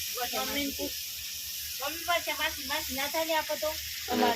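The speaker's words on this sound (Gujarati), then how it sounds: "વઘાર કરી દીધો મમ્મીએ." Spices tempering in hot oil for a drumstick curry sizzle with a constant bright hiss while a person talks close by over it.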